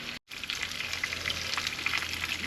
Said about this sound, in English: We're gonna just let it sear off until it get brown on each side